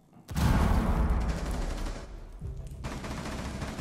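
Rapid automatic gunfire in Rainbow Six Siege, loud and close, starting abruptly, holding in a dense burst, pausing briefly, then resuming.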